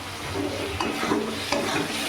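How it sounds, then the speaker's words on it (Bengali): Spice paste for aloo dum being sautéed in oil in a pan, with a pinch of sugar added, giving a steady close sizzle broken by a few sharp spoon scrapes and stirs. "ভালো করে আলুর দমের মশলাটা কষিয়ে নেব"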